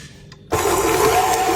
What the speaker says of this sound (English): After you put the banana in the mixer, you mix again.